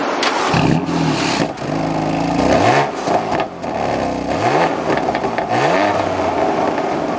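A 2020 BMW M4 Heritage Edition engine revs repeatedly through a quad-tip exhaust, rising and falling in pitch with sharp throttle blips, loud and close with a raspy exhaust note.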